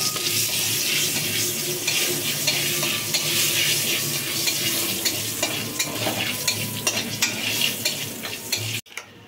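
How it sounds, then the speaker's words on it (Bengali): Bay leaf with whole garam masala, cinnamon, cardamom and cloves frying in hot oil, loud close sizzling and crackling while a spatula stirs and scrapes, a clatter near the end, no speech. "আমি একটা তেজপাতা দিলাম, গোটা গরম মশলা, দারচিনি, এলাচ, লবঙ্গ দিলাম, একটু নেড়ে চেড়ে নেব"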